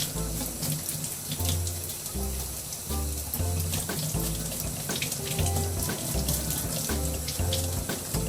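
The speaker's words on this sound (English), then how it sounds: "with my scrub brush, I'm going to scrub away any extra dark spots" Scrub brush scrubbing an abalone shell under running tap water, with rhythmic bristle scrapes over a steady flow of water into a sink, close and continuous, no talk.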